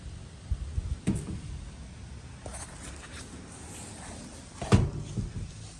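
The door of an old Mustang Cobra left sitting for decades creaks and clunks as it's opened, with a couple of distinct metallic knocks and rattles in a quiet space.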